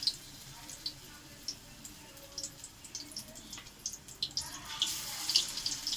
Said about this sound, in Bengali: আমি এক এক করে এরকম তেলে দেবো, ভাজবো